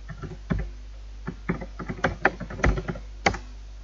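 Keys on a computer keyboard are typed in short irregular bursts to enter a username and password, giving close, crisp clicks with brief pauses between them.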